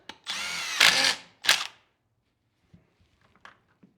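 A Klein Tools KNECT power tool drives bolts in two loud whirring bursts, the first longer, followed by a short spin and a few faint clicks and taps.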